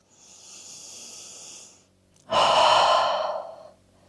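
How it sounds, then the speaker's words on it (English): Deep breathing during a slow yoga flow: a soft drawn-in breath, a brief pause, then a louder, fuller exhale close to the microphone. "just breathe."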